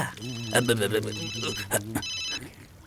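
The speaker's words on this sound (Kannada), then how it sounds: "ಒಂದ್ ವೇಳೆ ಶಂಕರ್ ಸರ್ ಆಫೀಸಿಂದ ಬಂದಿರೋ ಫೋನ್ ಆಗಿದ್ರೆ ತೆಗಿಲಿಲ್ಲ ಅಂದ್ರೆ ಚಾನ್ಸ್ ಮಿಸ್ ಆಗ್ಬಿಡುತ್ತಲ್ಲ." A telephone rings in repeated electronic bursts while a person talks over it close by.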